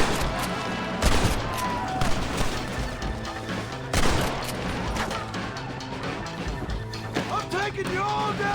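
Repeated gunshots ring out during a shootout in the video game Red Dead Redemption, with several loud, sharp bursts landing over a busy bed of music and voices.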